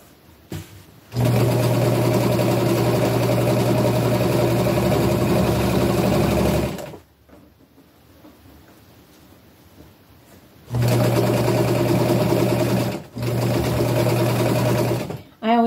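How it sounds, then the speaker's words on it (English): A sewing machine runs in two long steady bursts, stitching along a folded-over fabric edge on upcycled clothing, loud and close, with a quiet pause between the runs. "I always sew all the way out to the end because you want it all folded over"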